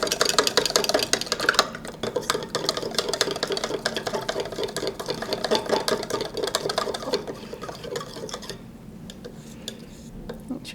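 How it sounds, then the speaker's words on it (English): A fork whisks ingredients seasoned with salt and pepper in a bowl, making rapid, steady clinking ticks that run continuously and ease off toward the end. "I'm just going to kind of whisk it all together with the fork"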